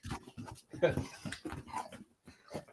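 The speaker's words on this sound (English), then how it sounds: "this dog's out of control" A dog whimpers and gives short yips and barks at moderate distance, mixed in with steady talk from radio hosts in a studio.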